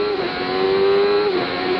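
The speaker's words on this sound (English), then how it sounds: "Bringing that Ford V8 out for all it's worth." A Ford V8 engine in a 1992 Formula One car at the Canadian Grand Prix, screaming at high revs in a loud, sustained, close-up whine that dips slightly and then climbs again.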